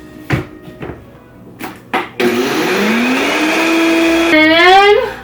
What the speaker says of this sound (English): 2 cups into my blender to make it into a flour